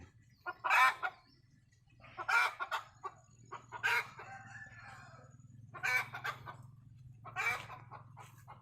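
Chickens in a rural village rich in spring water crow and cluck in several short bursts, the rooster's calls standing out over a low steady hum in the background.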